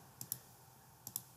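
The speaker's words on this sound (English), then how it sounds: "you can press the Alt key on the keyboard, and then click here" Computer keyboard and mouse clicks at a desk during Verilog coding work, two quiet pairs of sharp clicks spaced about a second apart over faint room hiss, with no voices.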